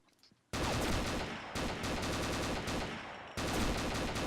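Combat Arms gunfire rattles in loud, sustained automatic bursts, close and dense after a quiet start, with brief dips between three long volleys.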